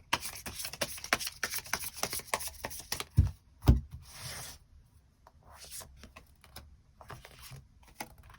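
Tarot cards are shuffled and drawn, giving soft rubbing, riffling and light slapping sounds in quick irregular bursts with a couple of sharper taps, quiet and close with almost no speech.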